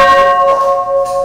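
An old plantation bell, once rung to call enslaved cane workers to the fields, sounds one loud, sustained metallic ring with clear steady overtones that hold through the clip.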